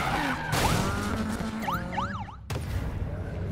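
A police car in the racing game Need for Speed Payback wails its siren in rising and falling sweeps over roaring engines and skidding tires, with a sudden cut partway through.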